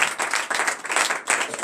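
A church congregation at morning prayer claps and applauds, a dense, steady burst of many hands that swells and dips slightly throughout.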